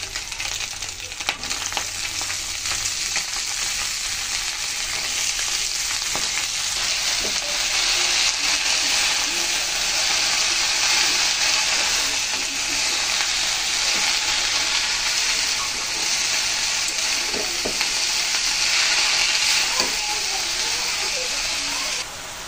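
Red leafy greens (lal shak) hit a pan of already-fried ingredients and are stirred, giving a loud, steady sizzling hiss that holds throughout, with occasional scrapes of stirring.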